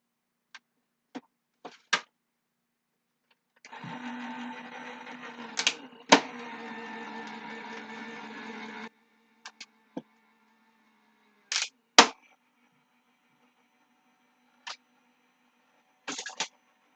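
Fabric fed through a manual die-cutting machine by hand-cranking gives a steady grinding roll of several seconds, with sharp pops, clicks and snaps scattered before and after, all fairly close with no talking.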